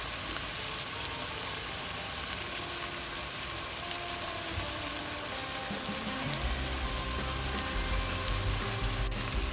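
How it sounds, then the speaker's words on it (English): Tomato puree goes into a Bolognese sauce sizzling in a pan, a continuous close crackle that thickens and deepens partway through, no voices. "now we're going to add our tomato purees."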